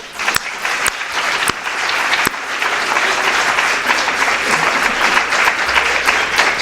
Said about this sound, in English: let's applaud all of our managers so far